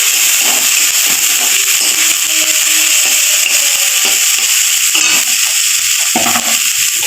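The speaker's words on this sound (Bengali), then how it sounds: "শঙ্কর মাছের তেল, এটা এইভাবেই ভাজা হবে।" Stingray fish oil frying in a pan with small pieces of fish, giving a steady, loud, close sizzle and hiss that runs unbroken throughout, with no talking.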